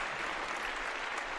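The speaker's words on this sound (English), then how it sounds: "a big round of applause" Applause for a guest on a live podcast, a short even burst of clapping from listeners, fairly quiet and steady throughout.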